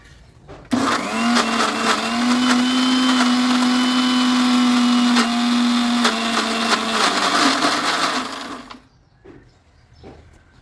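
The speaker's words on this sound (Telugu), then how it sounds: "మిక్సీ పెట్టేసుకున్నాను" A kitchen mixer grinder whirs loudly and steadily for about eight seconds as it grinds a fenugreek powder hair mixture, then cuts off, leaving quiet handling sounds.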